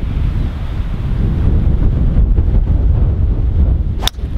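Strong wind on a golf course buffets the microphone with a steady, loud roar that sweeps in gusts. A brief sharp click comes near the end.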